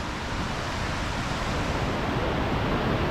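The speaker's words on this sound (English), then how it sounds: "So the water's coming down and it narrows into this channel, and the channel is so much narrower the water can't all get down" The Trent in high water rushes through a narrow channel, a dense, steady roar of churning water with no pauses, loud and close, and no voices over it.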